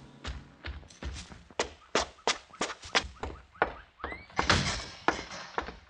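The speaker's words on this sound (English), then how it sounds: "Slam the door, Mr. Cooper." A door slams shut with a heavy thud amid a series of sharp, close knocks and bangs in a tense prison out-station scene, several loud impacts in quick succession.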